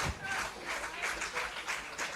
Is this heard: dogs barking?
no